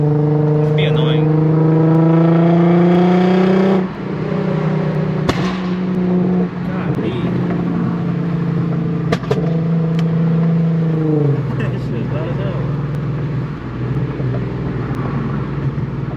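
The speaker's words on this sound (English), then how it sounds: "So this car does have a popcorn tune." A tuned Infiniti Q50 with a popcorn tune drones loudly up close on the road, its exhaust rising and falling with a few sharp crackling pops, while someone talks over it.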